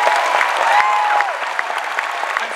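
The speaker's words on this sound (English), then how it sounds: "give them a round of applause" A crowd at a Star Wars Celebration Star Tours presentation breaks into brief, lively applause, with scattered cheers and whoops over the clapping.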